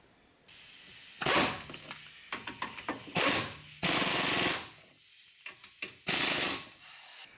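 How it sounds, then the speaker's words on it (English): A ratchet tightens the caliper bracket bolts on a Chevy Impala during front wheel bearing work, giving bursts of close, rapid clicking between loud hissing noises, with sharp metallic ticks in between. "now I'm gonna tighten these 2 caliper bracket bolts"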